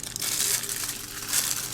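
A large imported single-use plastic pastry piping bag handled close by, giving a continuous loud crinkling and crumpling that swells twice, with no talk over it.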